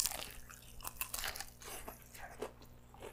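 Close, crunchy chewing of a KFC Zinger Double Down Max, a fried chicken sandwich, with irregular bites and crackly munching repeating over a few seconds, fairly quiet, with no talk.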